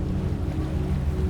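Boat engines idling by a dock, a low steady rumble with a faint droning hum, even and continuous throughout with no voices.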